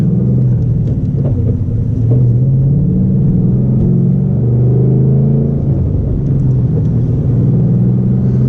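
A 2012 Ford Mustang Boss 302 with its V8 engine rumbles steadily while driving, a loud low drone that holds even throughout with slight shifts in pitch and no talking.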